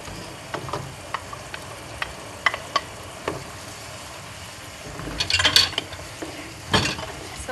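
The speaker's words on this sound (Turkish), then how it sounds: "Salçamızı da kavuruyoruz." Tomato paste frying in a pan for a Bitlis dish, giving a soft steady sizzle broken by scattered clicks and scraping stirs, with a louder burst of stirring near the end.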